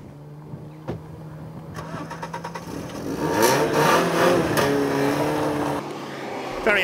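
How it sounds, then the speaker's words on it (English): Alfa Romeo car engine starting and revving on the road, a few throttle blips building into a loud, climbing acceleration that holds strong before dropping away. "the sort of urgent, strident, free revving engine that you expect"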